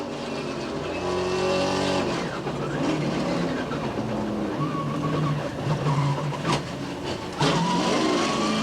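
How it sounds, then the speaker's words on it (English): Race cars roar and tires squeal during a multi-car crash on a restart off turn 4 at Phoenix in a 1998 NASCAR Southwest race, with engines surging, screeching skids and impacts through the pack, loud and close. "A multi-car accident on a restart with the field tightly bunched off turn 4."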